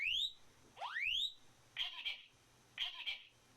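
Electronic smoke alarm sounding from an apartment below, muffled through the floor: two rising chirps followed by two harsh beeping bursts, spaced about a second apart, fairly faint with no talking.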